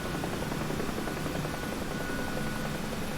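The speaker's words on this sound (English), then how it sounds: "I don't know if you can hear the rotor blades actually biting" Steady thrumming helicopter rotor noise from a flight simulator game, with a rhythmic blade chop, constant and fairly quiet, with no speech.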